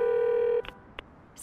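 A cartoon phone call being placed: a steady electronic dial tone cuts off, followed by two short beeps of dialing and the start of a ringing tone, all clear and close.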